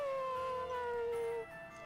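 A dog howls in the role-playing game Bravely Default 2, one long, clear, wavering cry that slowly falls in pitch before breaking off, over quiet background music.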